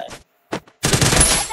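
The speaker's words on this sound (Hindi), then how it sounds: "गोलियां गोलियां चल रही हैं" Gunfire in the Free Fire video game: a few short, sharp shots separated by silence, then a sustained burst of rapid automatic fire, loud and close.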